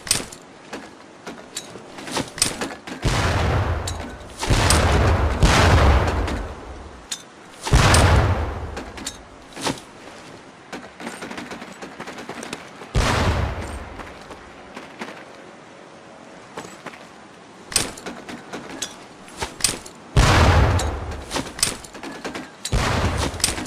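Training grenades burst one after another in Medal of Honor: Pacific Assault, heavy booming explosions spaced several seconds apart with rumbling decays and faint clatter between them.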